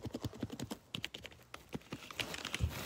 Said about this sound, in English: I think these are cherry MX blue switches